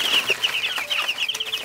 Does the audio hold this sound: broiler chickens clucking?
yes